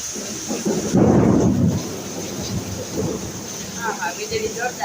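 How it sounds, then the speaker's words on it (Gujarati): A thunderstorm brings a heavy clap of thunder that rolls for about a second over steady rain, with people talking faintly beneath. "વરસાદ ચાલુ થઈ ગયો હવે"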